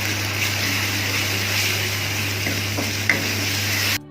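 Tomatoes and green chillies frying for kofta while being stirred, a loud continuous sizzle with scraping stir strokes and a low steady hum underneath, ending abruptly.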